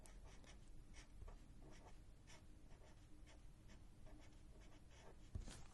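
A pen scratches on paper in a planner, close and quiet, in short rhythmic strokes as a word is written out.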